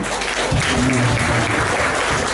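Brief burst of applause from a congregation during a Sunday church service, with a short voice sounding under the clapping.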